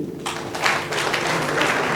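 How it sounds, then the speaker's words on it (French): A ceremony audience applauds in Kinshasa, a steady wash of many hands clapping that swells after a quarter second and holds loud and dense to the end. "On applaudit."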